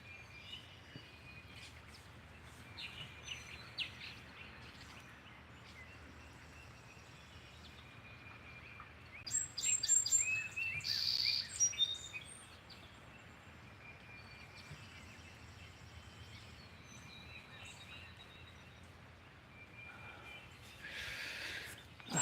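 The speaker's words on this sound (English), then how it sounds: "There's more birds." Birds chirp in a rainy spring yard near an apple tree shedding its blossoms; a few faint, distant calls cluster midway over a soft steady outdoor hush.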